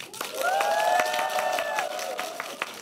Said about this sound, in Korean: 박수를 한번 들어보고